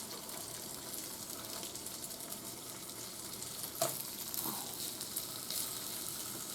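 Hamburger patties frying in a pan produce a soft, continuous sizzle with crackling pops, joined by a few sharper clinks and scrapes toward the end, fairly quiet and close.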